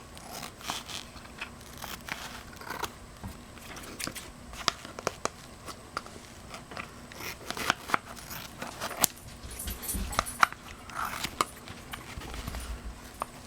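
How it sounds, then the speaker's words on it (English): Scissors snip through the edges of a glue-soaked sponge stamp pad, giving scattered short crunchy cuts and soft tearing sounds at irregular intervals over faint background noise, close and fairly quiet. "I'm going to cut the edges so that I don't accidentally squeeze glue out every time I shut it."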